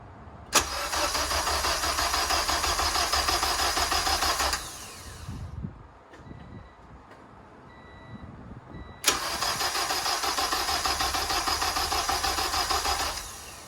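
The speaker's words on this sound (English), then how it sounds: "this motor turning over for the first time" A K-swapped 1992 Honda Civic VX EG hatchback engine cranking over for the first time, two long loud bursts of steady cranking separated by a quiet pause with faint clicks.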